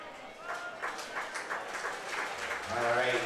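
Football fans cheering and applauding in the stands at a night game, a muffled, distant crowd swell beneath a commentator's steady talk.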